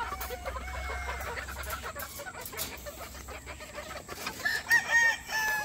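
A white breeder rooster among gamefowl crows a few times, the calls rising over steady clucking and light background noise, with the loudest bursts near the end.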